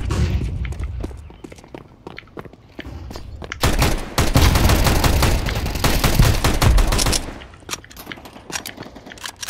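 Gunfire in Counter-Strike 2: scattered single shots at first, then a dense burst of rapid automatic fire in the middle, easing back to sporadic cracks and footsteps. Loud and close, with no talk.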